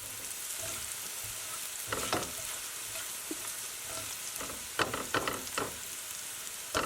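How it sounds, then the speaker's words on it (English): Bacon and soffritto frying in a pan for keto bolognese, a steady close sizzle with a few louder stirring scrapes and spatters, no talking. "cook until the bacon is starting to look crispy"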